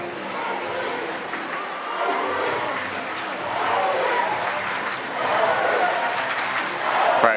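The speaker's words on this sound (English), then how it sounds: "Crowd getting behind him here, hoping to see him back in the game." Steady applause and crowd noise in an arena at a 2018 wheelchair basketball world championship game between Italy and Turkey, cheering for an injured player; continuous, moderately loud clapping with chatter, swelling slightly toward the end.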